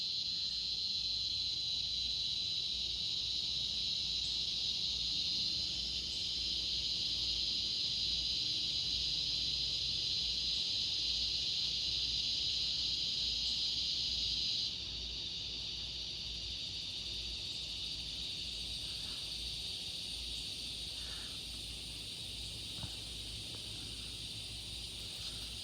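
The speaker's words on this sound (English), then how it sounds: "Cicadas, show me your presence." Cicadas calling outdoors in a steady, loud, high-pitched drone that holds unbroken throughout and steps slightly quieter partway, with no talking over it.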